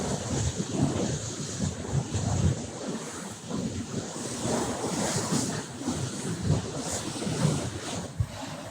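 A racing sailboat under way at sea during the Vendée Globe, with steady wind buffeting and waves washing against the hull, continuous and fairly loud with no voices.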